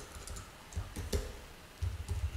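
Code being typed on a computer keyboard: soft, quick key clicks in short clustered bursts separated by brief pauses, quiet and close.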